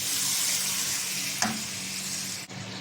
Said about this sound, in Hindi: अब गोश्त डालने के बाद हम इसको अच्छी तरह से भून लेते हैं थोड़ा